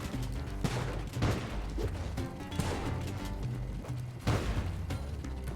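Explosions and crashing blasts in the video game Spelunky 2 repeat over several seconds amid busy game music and effects, with a few louder bursts standing out against a constant noisy backdrop.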